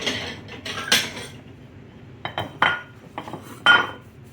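Crab and shrimp cakes are set onto a dish with clinks and scrapes of utensils and plate, a cluster of clatters followed by a few separate sharper knocks, close by and without speech.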